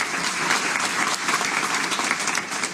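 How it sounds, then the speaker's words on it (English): An audience applauds at an Arab American community press conference in the Bronx, a dense, continuous clapping that stays loud and even for the whole stretch. "please give her a big round of applause"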